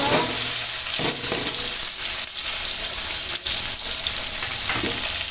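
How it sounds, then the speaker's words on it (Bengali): Chopped onion hits hot oil left from frying katla fish and sizzles loudly and steadily, a dense close crackle with occasional stirring scrapes, no voices. "ওই তেলে দিয়ে দিলাম পেঁয়াজ কুচি।"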